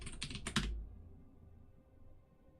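A short burst of rapid computer keyboard keystrokes, a handful of close clicks ending in a heavier thump, then near silence with faint background hum; no talk.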